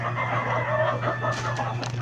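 Chickens clucking with a rooster crowing, set against a steady low hum in the background; the birds sound moderately close and continuous across the short stretch.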